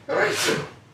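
One sharp, close sneeze bursts out and fades within about half a second, with a hint of voice around it.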